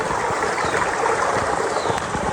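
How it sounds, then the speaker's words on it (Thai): A rainy-season forest stream flows steadily and fairly loud nearby, a continuous rushing gurgle without pause and no one speaking. "ไปตามลำธารเห็นไหม"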